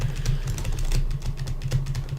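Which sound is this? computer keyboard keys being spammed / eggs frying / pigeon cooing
computer keyboard keys being spammed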